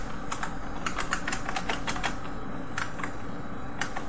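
Computer keyboard typing, a run of quick clicky keystrokes in bursts with short pauses, close and clear over a steady background hum, no talking.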